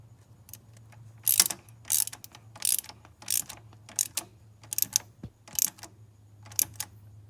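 A socket ratchet on a VW O2M manual transmission shifter clicks in short, close bursts of rapid pawl ticks with brief pauses, over a faint steady hum.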